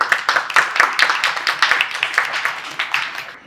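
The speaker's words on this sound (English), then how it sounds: "Let's give them a round of applause" An audience at a startup pitch competition claps, a dense, even patter of many hands that stays steady and close for a few seconds before easing slightly.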